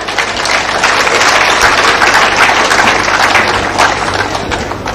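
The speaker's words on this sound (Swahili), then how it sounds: "Makofi mazuri tafadhali." A large crowd at an outdoor political rally in Machakos applauds steadily, a dense continuous wash of clapping and cheering at full volume for the whole stretch, with a faint low hum underneath.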